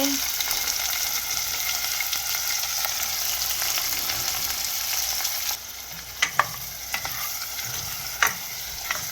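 Seasoning fries in very hot oil for Jamaican roast fish stuffed with callaloo, a strong steady sizzle that drops in level partway through, followed by a few distinct clacks of stirring.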